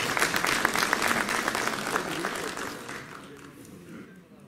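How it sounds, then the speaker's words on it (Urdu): An audience at a formal reception for lawyers of a district bar association in Chakwal applauds warmly, steady dense clapping that gradually fades toward the end. "ان سب کے لیے بھرپور تالیاں بجائیں"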